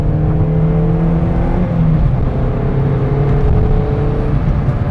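A Peugeot 206 RC with a 177 hp engine pulls from low revs in third gear, a steady, loud engine drone rising gradually in pitch as it accelerates, heard from inside the car without talk.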